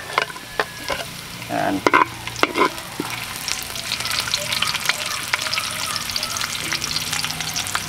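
Onions sizzle and crackle loudly in a hot pan with a dense, continuous fry. Utensil knocks and stirring clatter come early on, and a brief word is spoken.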